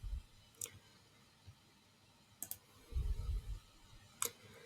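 A few faint, sharp computer mouse clicks spaced apart in a quiet room, with soft low rustling in between.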